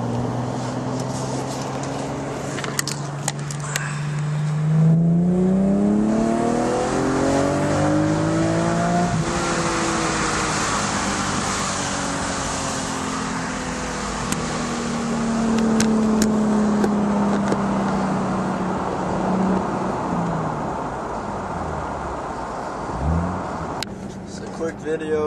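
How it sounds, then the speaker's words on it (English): Inside the cabin of an Infiniti G37 fitted with a Tanabe exhaust, the engine drones and rises through the gears under acceleration, with a steady low exhaust rumble and rising revs, occasional clicks and a voice talking briefly. "for people to hear the inside of the Tanabes. Right now I'm about second gear in 3K."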